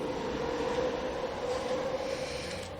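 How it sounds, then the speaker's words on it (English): A SkyTrain rapid-transit train passes close by in New Westminster at an outdoor memorial unveiling, a steady loud rumble and rail hum holding for the whole stretch and easing slightly at the end. "cue the SkyTrain"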